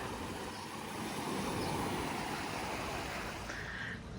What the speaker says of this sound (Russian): А здесь шум прибоя.